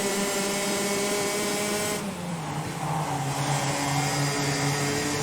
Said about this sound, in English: Through the hairpin, does seem to be able to pull up a little bit on Rowan Gill in the 3rd position